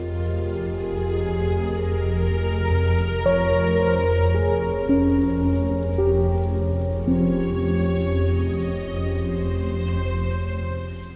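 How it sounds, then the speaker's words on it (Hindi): Rain falls steadily and evenly throughout, blended with sustained, layered musical tones that shift in pitch now and then; nobody speaks. "या अल्लाह, ये बारिश कब रुकेगी?"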